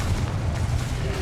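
An explosive spell detonates in a fantasy wizard-school action game, a short, heavy booming blast with deep rumbling low end, loud and close, with a voice speaking briefly over it.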